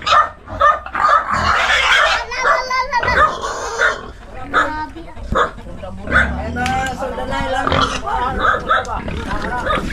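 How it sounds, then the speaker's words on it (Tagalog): A pig squeals loudly in repeated bursts as it is pushed outdoors, with people talking and shouting close by throughout. "Ang hirap magtulak ng baboy."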